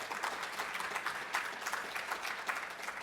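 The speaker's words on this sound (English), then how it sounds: "we can give that applause" Audience applause at a policy summit address, a dense, even patter of many hands clapping, faint and steady throughout with no talk over it.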